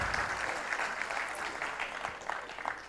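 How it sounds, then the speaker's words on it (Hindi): Audience applause at a Punjab mushaira in Patiala, a steady wash of clapping hands lasting throughout, fairly even in density with no voices rising above it. "दाद तालियां बजा के"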